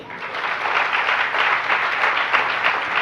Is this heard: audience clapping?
yes